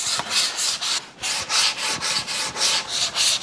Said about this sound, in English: now I'm just going to sand it all down